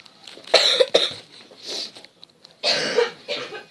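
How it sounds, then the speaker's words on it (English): Several harsh coughs in quick bursts, close to the mic, with a short pause before a final louder round of coughing. "sorry about the coughing."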